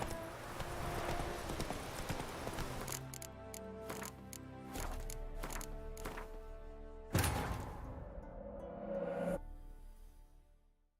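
Roach, Geralt's horse in The Witcher 3, gallops with brisk, evenly spaced hoofbeats that ring out loud and close, joined by a brief whinny, over a musical score before fading to quiet.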